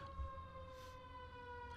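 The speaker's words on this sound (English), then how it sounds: "There's a siren behind us." A street emergency-vehicle siren on Hollywood Boulevard, a steady sustained wail heard from somewhat behind and at a distance, running alone without talk over it.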